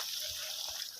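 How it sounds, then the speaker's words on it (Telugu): Water gushes steadily from a borewell pipe on a mango orchard, a constant close splashing hiss with no voices. "ఫుల్ వాటర్ ఇది బోర్లో"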